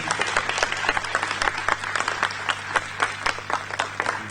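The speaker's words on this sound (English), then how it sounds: "it deserves a big round of applause over again" Sustained audience applause at an event in Srinagar, a steady dense wash of clapping with sharper individual claps standing out, continuous and moderately loud throughout.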